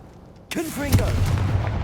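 A sudden Confringo explosion spell bursts out in the Hogwarts Legacy video game after a quiet start, with a loud boom and crackling tail, while a short vocal-like sweep rises over the blast.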